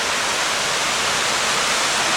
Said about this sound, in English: A whole bunch of beautiful waterfalls down here, which I can't quite get to.